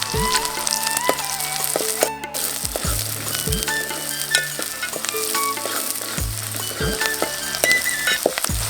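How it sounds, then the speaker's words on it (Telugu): Cumin, mustard seeds, sliced onions and green chillies fry in hot oil for a snake gourd kadhi, with a steady close sizzle and crackle, intermittent stirring clinks and scrapes, and no talking. "నూనె గరమైనాక జీలకర్ర ఆవాలు వేసుకోవాలి జీలకర్ర ఆవాలు గోలిన తర్వాత ఉల్లిపాయలు పచ్చిమిర్చి ముక్కలు వేసుకోవాలి"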